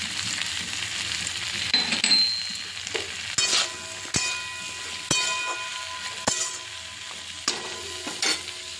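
Vegetables are stir-fried in a hot pan with oil, a constant close sizzle broken by repeated sharp scrapes and knocks of the spatula against the pan at irregular intervals, no speech.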